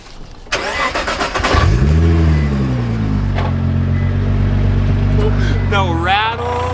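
A Nissan R35 GT-R engine cranks, fires up with a loud rev, then settles into a strong, steady idle, close by, with a brief higher blip near the end.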